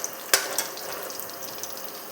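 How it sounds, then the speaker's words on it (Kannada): Semige (vermicelli) frying in extra hot oil with red chillies and curry leaves, giving a steady close sizzle with a couple of sharp pops early on and light crackling throughout. "ಸೇಮಿಗೆ ಇದರಲ್ಲಿ ಚಟ್ಪಟ್ ಅಂತ ಸಿಡೀತು"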